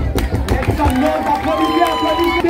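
A school audience at a cultural evening claps and cheers after a poem recital, with scattered hand claps and crowd murmur mixed under someone speaking French into a microphone.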